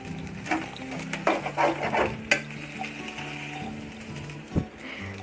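Vegetable fried rice is stirred and scraped in a pan, a steady sizzle under repeated clattering strokes of the utensil against the metal, close and moderately loud with no talking.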